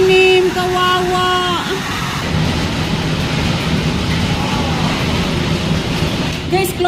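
Hailstorm in Dedrad, Mureș, Romania, with rain and ice pellets falling onto a garden: a dense, steady roar of pelting precipitation fills the whole stretch, loud and continuous, with a voice talking over it near the start.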